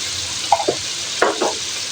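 Turmeric and ground spices sizzle in hot oil with a steady fry and a few stirring scrapes close by.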